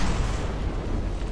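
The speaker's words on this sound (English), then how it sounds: "look at those big APS guns are just dropping rounds right down into the hull" Big APS guns in From the Depths pound rounds down into a ship's hull, a dense, continuous roar of overlapping heavy booms and rumble with no break.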